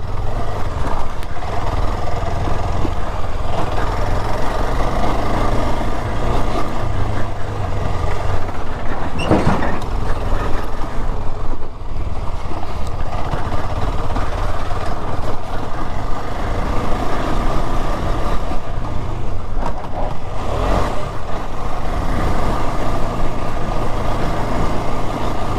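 A KTM Adventure 250 motorcycle engine runs steadily in second gear over rough on- and off-road terrain, a loud continuous drone with wind rush and a few rattling bumps, recorded close throughout with no talk.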